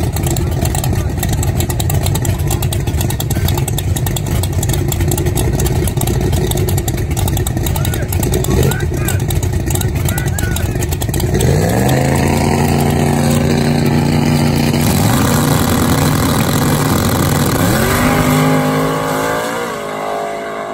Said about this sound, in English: That is Kent Folk's 70 and a half split bumper Camaro that's called Buster.